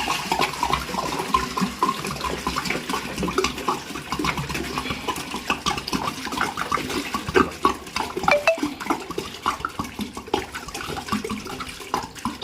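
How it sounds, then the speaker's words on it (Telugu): Water pours steadily and noisily from a can into a pot, a continuous splashing gush lasting throughout. "ఇప్పుడు క్యాన్ నీళ్ళు అయితే మన బిందెకి అయితే పోసుకుంటున్నాము"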